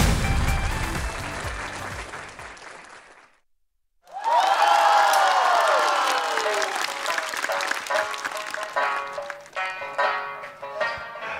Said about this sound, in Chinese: 让我们掌声欢迎吴昕、孟鹤堂、周九良带来 sketch 表演《相声来新人》。